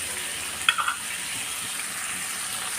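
Salted food sautés in a pan while a spiced chicken fry is cooked, giving a steady close sizzle with a few quick metallic clinks near the start and no speech.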